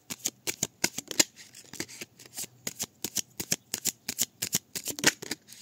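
Tarot cards being shuffled by hand: a rapid series of crisp, close riffling snaps and flutters in uneven bursts, with no other sound around them.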